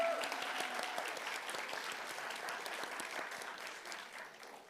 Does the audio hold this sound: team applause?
yes